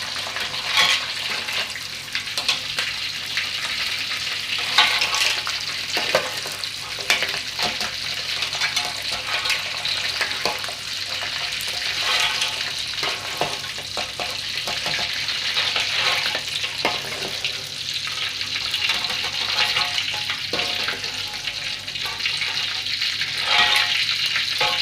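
Green mussels fry in hot oil in a pan, giving a steady, dense sizzle with crackling spatter throughout, close and loud with no talking.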